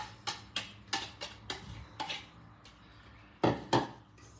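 Rapid rhythmic tapping of a whisk against a bowl while eggs are whisked into honey almond cake batter, a steady series of close clicks with a couple of louder knocks near the end.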